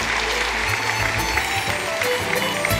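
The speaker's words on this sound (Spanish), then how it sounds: "Un fuerte aplauso para ellas, por favor" A gala crowd presenting the Xana, Xanina and maids of honour of the El Bollo 2016 festival gives a loud, continuous round of applause, a thick wash of clapping with no pauses.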